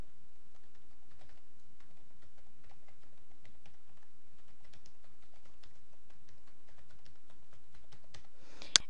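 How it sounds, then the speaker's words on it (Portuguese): Someone types an email address and password on a computer keyboard in a quick, light, irregular patter of key clicks, close and quiet, ending with a brief louder click. "Você digita e-mail e senha."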